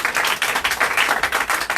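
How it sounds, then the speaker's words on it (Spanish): A church congregation at a Spanish-language worship service claps briefly in a quick, steady burst of many hands, close and fairly loud. "¿Por qué no se dan un aplauso a ustedes mismos hoy?"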